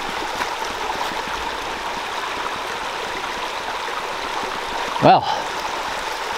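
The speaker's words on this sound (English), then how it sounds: "Headed for the sound of the river" A river flows through New England woods, a broad, steady rushing wash heard continuously at moderate distance, with a brief spoken word near the end.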